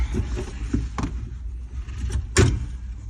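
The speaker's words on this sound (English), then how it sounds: "shut the door, put my seatbelt on, properly secured" A truck cab door shuts and a seatbelt is fastened during a CDL training session, a series of sharp clicks and thuds with one louder bang near the end over a low rumbling background.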